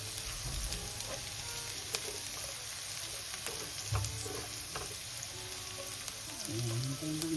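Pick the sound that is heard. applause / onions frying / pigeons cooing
onions frying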